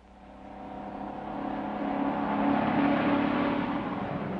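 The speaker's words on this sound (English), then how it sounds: "I'm driving a white truck marked Dollar Van and Storage, loaded with dangerous killers." A white 1941-era van truck motors along a highway, its steady engine drone swelling gradually louder over the few seconds with no voices.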